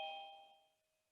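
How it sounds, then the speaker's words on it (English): A doorbell chimes once, a clear bright ding that rings out loudly and then fades into silence over about a second, with no voices. "he's going to keep ringing the bell, isn't he?"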